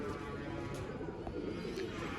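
Low, rolling coos from a group of Sialkoti chuhe pigeons close by, faint and steady, with someone talking over the birds.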